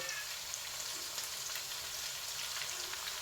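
Onions fry in a hot pan for an aloo baingan dish with a steady, dense sizzle and crackle, constant in level from start to finish, with no talking.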